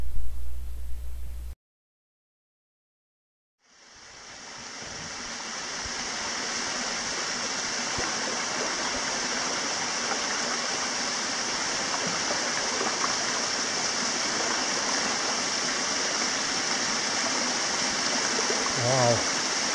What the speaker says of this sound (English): this is quite a tall waterfall.